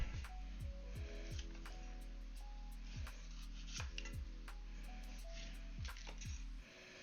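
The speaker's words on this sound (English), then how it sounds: "Just chopping onions and garlic." A knife chops leeks, garlic and a bell pepper on a board in a home kitchen, striking in quick, fairly regular cuts with short pauses, quiet and close with no talking.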